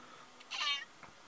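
A contented pet cat gives a single short meow indoors, fairly close and soft, with a faint second chirp just after.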